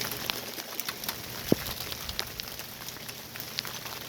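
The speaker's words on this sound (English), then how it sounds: "I'm getting rushed because of the rain" Steady rain patters outdoors, with scattered sharper drips and taps over a constant soft hiss.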